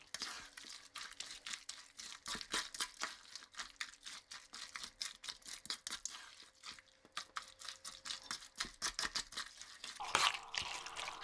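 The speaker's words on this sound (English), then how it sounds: "And I'm going to stir with my spoon. Scrape the bottom and toss and turn like this." A spoon stirs and scrapes thick kimchi pancake batter in a bowl, giving a steady run of close, wet clicking and scraping strokes with brief pauses and no talking.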